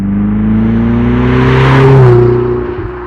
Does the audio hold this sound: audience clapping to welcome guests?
no